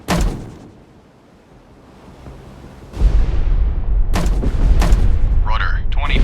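Deck guns of a World War II destroyer fire in the naval combat game Destroyer: The U-Boat Hunter, heavy booming blasts with rumbling aftermath and crashing sea noise, loud and close.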